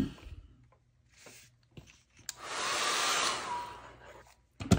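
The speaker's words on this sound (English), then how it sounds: "because I'm using the dryer" A hair dryer whooshes steadily for about two seconds over a mixed media collage, preceded and followed by quiet clicks and handling noises at close range.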